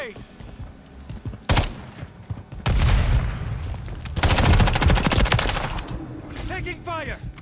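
Heavy automatic gunfire from an online 6v6 Modern Warfare 3 match, with loud rapid bursts and sustained rattling volleys close by, broken by short gaps, with brief spoken callouts in between.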